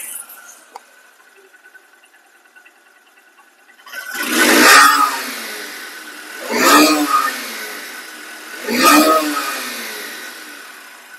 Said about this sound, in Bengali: বাইকটির সাউন্ড কোয়ালিটি দেখছেন একদম নতুনের মতো